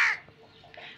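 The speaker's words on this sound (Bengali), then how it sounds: "আর ওইখানে একটা কাক ডাকতেছে।" A crow caws once, sharp and fairly close, at the start, followed by quiet outdoor ambience with a faint softer call near the end.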